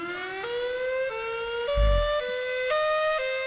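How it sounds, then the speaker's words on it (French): A wailing emergency siren rises and falls in clear sweeping tones, loud and alone, with a brief low thump partway through. "pour me détendre, j'écoute des compilations de sirènes"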